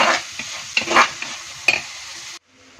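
Sliced onions sautéing in a pan for a simple Kerala fish curry give a close, soft sizzle under repeated scraping stir strokes, then cut off abruptly into near silence.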